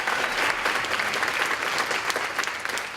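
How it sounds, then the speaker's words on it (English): Dense, lively applause from a festival panel audience at ATX Festival, close and full, with many hands clapping continuously for the whole stretch and no talk on top. "Can we get some applause for Yes."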